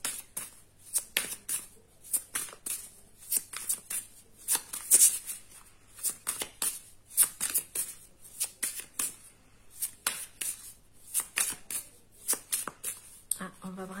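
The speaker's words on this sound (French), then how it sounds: "on va brasser un peu comme ça" A deck of cards being shuffled by hand during a card reading, with repeated quick riffling bursts in an uneven rhythm, close and crisp, while a person talks between them.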